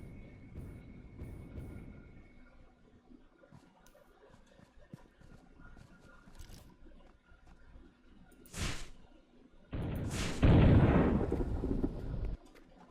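Rocket launcher firing in the Satisfactory video game, a sharp whooshing launch followed by a loud roaring blast that rumbles for a couple of seconds, close and alone after quieter ambient game sounds.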